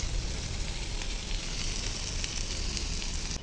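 Tomato, green chili and carrot sizzle steadily in a hot pan for chow mein, a dense continuous crackling hiss, close and even, with no talking.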